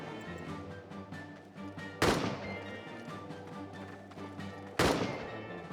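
Gunfire and grenade blasts in the World War I trench game All Quiet in the Trenches, with two sharp, loud bursts over a dense, rumbling battle backdrop.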